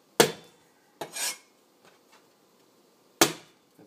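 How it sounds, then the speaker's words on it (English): Fresh ginger smashed on a cutting board during Chinese cooking: three sharp, hard thuds spaced apart, with a couple of faint taps between them, close and without speech. "When you crush it like that, it really releases the flavor much more than if you just tried to chop it."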